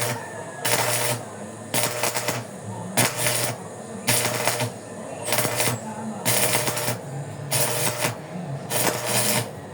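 Arc welding with a stick welding rod, the harsh buzzing crackle coming in repeated bursts of roughly a second each, separated by short pauses, loud and close throughout.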